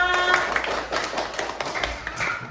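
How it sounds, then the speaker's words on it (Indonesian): A group of people in a classroom clap their hands together in a dense, steady burst of applause, fairly close and continuous, with a brief tonal voice at the start and no clear talk. "Tepuk tangan semuanya."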